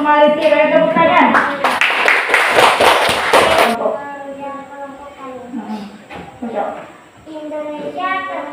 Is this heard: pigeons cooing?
no